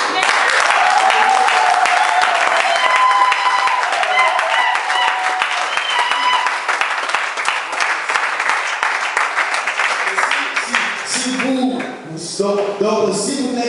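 A church congregation bursts into applause to acclaim Jesus, sustained dense clapping that fills the room, with voices and music rising through it near the end.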